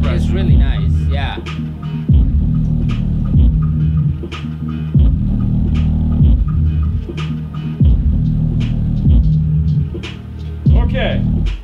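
Skar Audio 6.5-inch woofer pumping deep, throbbing bass in a steady repeating rhythm, loud and close, with music detail above it and faint voices mixed in.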